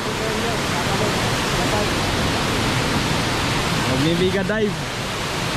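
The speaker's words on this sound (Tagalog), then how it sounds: "Dito na pala yung falls ng Daranac." Daranak waterfall pouring into a pool, a loud steady rushing roar filling the scene up close, with people talking and calling out over it.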